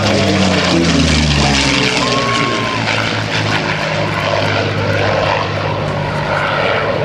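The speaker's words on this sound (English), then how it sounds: "That's a great sound of the Allison engine." Allison-engined warbird flying past at an air show, a loud propeller drone with a low engine roar sweeping by and slowly fading, with no talk.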